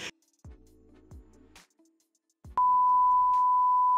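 A notification bell sound effect rings out as a sustained bright electronic tone after a few soft thumps and clicks, loud and alone with no speech.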